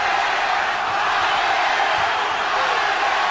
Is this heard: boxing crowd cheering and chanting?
yes